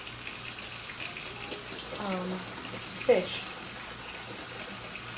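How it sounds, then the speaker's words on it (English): Water runs from a tap into a bucket during an aquarium water change. A faint, steady rushing hiss continues beneath a person talking. "while that bucket is filling it with water"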